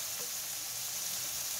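Chopped, defrosted meat browning in a pan for cheesy goulash gives off a steady, close sizzle and crackle of frying, dense and hissy with soft scraping stirs underneath and no talking.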